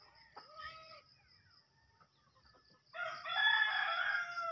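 A chicken gives a short clucking call, then quiet rustling follows, and a louder, longer crowing-like squawk rises near the end, fairly close against a faint background hum.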